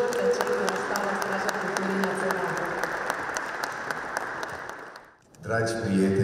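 Sustained audience applause fills a hall at a Romanian cultural anniversary gala, a dense, even wash of many clapping hands that fades out near the end and gives way to a softer sound.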